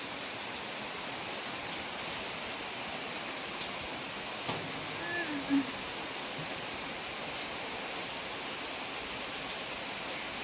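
Steady rain falls in a soft, even hiss that stays faint and constant throughout, with a brief dull knock and a small tap near the middle.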